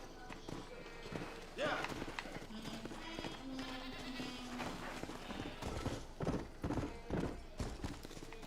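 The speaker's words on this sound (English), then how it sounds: "There's a place to hitch the horse, I guess." Horse hooves clip-clopping in the Red Dead Redemption video game on Xbox One, near a house outside town: a rhythmic trot mixed with other game sounds and ambience.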